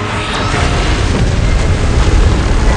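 A beam blast explosion in a Godzilla and Kong battle against Mechagodzilla: a loud, dense, continuous roaring rumble that holds steady for nearly three seconds, with no voices over it.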